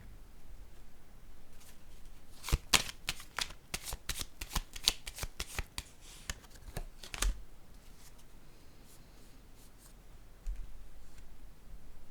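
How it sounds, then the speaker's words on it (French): Tarot cards being shuffled and flicked, a quick flurry of crisp card snaps and slaps in the middle with quieter rustling around it, close and clear, no talking. "Là, je vais déposer une carte sur celle-ci."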